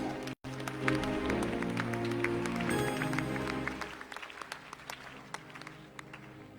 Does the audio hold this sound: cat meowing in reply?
no